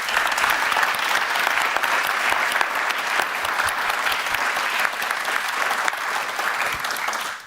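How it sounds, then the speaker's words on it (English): Sustained applause from an audience at an award ceremony during a global solutions summit, steady and fairly loud across the whole stretch, with no speech over it. "Give them all a round of applause."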